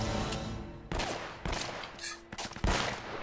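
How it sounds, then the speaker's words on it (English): Gunfire in the video game Uncharted: Drake's Fortune, a run of loud sharp shots and bursts in irregular clusters with brief gaps, close and dense, with no talking over it. "What a dramatic shooting."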